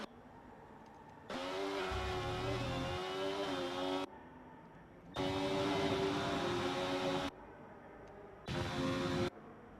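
A race car engine in an F1 video game at Spa screams in bursts of high, steady revving, cutting off abruptly between three separate stretches and then resuming, loud and without talk.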